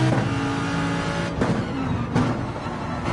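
Racing car engine in a video game, steady droning revs with harmonic whine rising and dropping as the car accelerates and brakes, continuous and fairly loud throughout.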